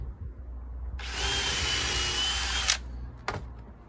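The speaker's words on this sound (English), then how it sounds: "I'm just doing a pilot hole through the top one" A power drill bores a pilot hole through a wooden cladding slat beneath decking, giving a close, loud whine of about two seconds that stops abruptly, followed by a brief second spin.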